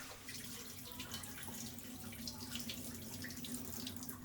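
A kitchen tap runs steadily into a sink as mung beans are rinsed, a continuous close hiss and splash with faint rattling of the beans and no voices.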